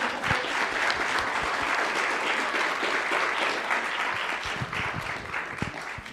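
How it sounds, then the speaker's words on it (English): A crowd applauds at a Martin Luther King Jr. Day of Service event, honoring a young speaker. The clapping is steady and dense and fills the room for about six seconds, with no talk over it. "Give a round of applause to Jay Speller"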